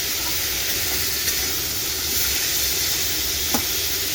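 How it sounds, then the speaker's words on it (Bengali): Bitter gourd and potatoes fry in a pan with a loud, steady sizzle and hiss that holds throughout, with a couple of faint clicks from utensils and no talk. "এই দেখো উচ্ছে আলু ভাজা হচ্ছে"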